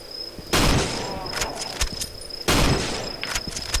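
Gunfire in the horror video game Cry of Fear, two loud bursts of shots a couple of seconds apart with a few sharper single cracks between them, over a steady high electronic whine.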